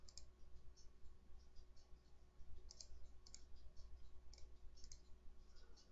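Quick, faint mouse clicks in irregular succession while working in CorelDraw graphics software, with a steady low hum underneath and no voices.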